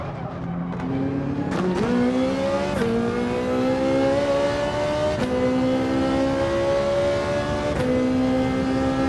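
A Ferrari 458 Italia race car engine roars in a racing video game, revving high and climbing through gears with brief dips at each shift, loud and continuous with no talk.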